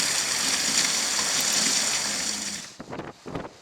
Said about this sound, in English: The water from the river flows through the concrete pipe down below